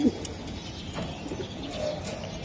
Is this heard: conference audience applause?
no